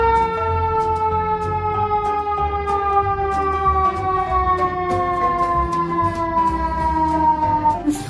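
A toy ambulance plays its electronic siren, a steady falling wail repeated continuously and loudly close by, with faint handling noise beneath.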